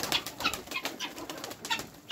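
Pigeons let out of their loft for the first time at a backyard poultry yard, their wings flapping and clapping in repeated bursts of fluttering, fairly close and with no talk.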